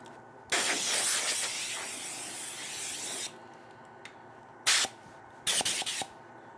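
An air compressor nozzle blows wood shavings off a woodturning lathe in a long, loud hissing blast, then two shorter bursts a moment later, close and with no talk.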